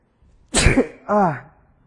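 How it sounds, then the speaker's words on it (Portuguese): A teacher sneezes once, loud and close, during a Bible lesson on the Gospel of Matthew: a sharp, breathy burst followed by a short voiced tail, then quiet. "O professor também espirra."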